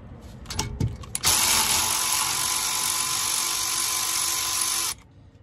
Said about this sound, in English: We can now get the ratchet and crack that one off.